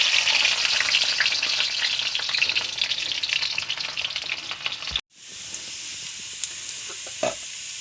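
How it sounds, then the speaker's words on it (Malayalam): Onions frying in oil in a clay pot, a dense bright sizzle with stirring scrapes that cuts off abruptly partway, then a quieter steady hiss with a few clinks, no talk. "നമ്മൾ കാച്ചാള ചട്ടി വെച്ച് എണ്ണ ഒഴിച്ചിട്ടുണ്ടെങ്കിൽ ഉള്ളി ഇടണം"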